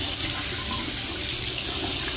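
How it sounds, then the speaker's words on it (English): Warm water runs steadily from a bathroom sink tap in a home beauty routine, a continuous close hiss and splash with no talking. "water's nice and warm. Sorry for the noise."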